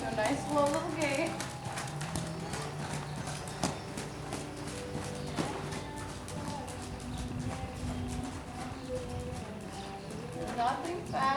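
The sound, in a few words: Missouri Fox Trotter horse hooves at a slow gait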